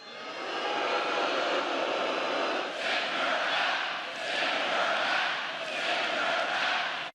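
A large political rally crowd at a Trump event cheering and chanting, a loud continuous roar with rhythmic swells and dips, as though heard from among the audience.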